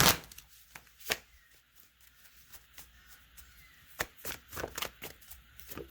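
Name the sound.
shuffling cards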